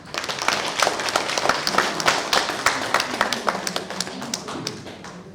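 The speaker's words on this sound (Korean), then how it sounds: "이 6분한테도 다시 한번 큰 박수 부탁합니다." Audience at a book-launch talk concert for a six-author anthology claps for the six writers, a close, steady burst of many crisp hand claps lasting several seconds with no voices over it.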